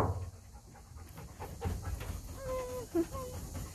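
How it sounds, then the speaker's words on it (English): A chocolate Labrador pants steadily nearby, with a short bark or yelp breaking through near the end over faint outdoor background. "hopefully my husband takes the dog inside, because otherwise he's going to continue to bark"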